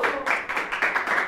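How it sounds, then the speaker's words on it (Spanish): Studio audience applause for an upcoming guest on a Spanish-language TV show, a short burst of clapping in steady pulses, moderately loud and heard on its own without talk. "Aquí un aplauso para nuestro invitado que va a estar más adelante."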